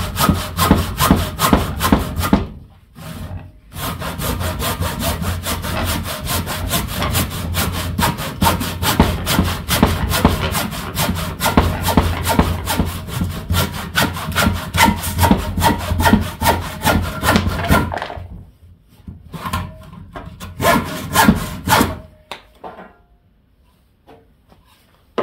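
A Denzel hand saw with 3D-sharpened coarse teeth cutting through wood: fast, steady rasping back-and-forth strokes, loud and close, pausing briefly, then resuming before tapering off near the end.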